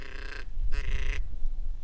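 Fulvous whistling ducks call twice in the Florida Everglades during a duck hunt, giving two loud reedy bursts close by with a low rumble under them.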